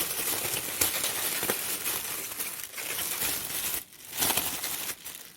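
Plastic bag crinkling and rustling close up as cabbage is packed into it for freezing in a home kitchen, with a steady crackle and a few sharper crumples, no talking.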